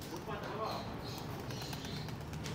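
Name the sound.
pigeons flying out of the loft, flapping wings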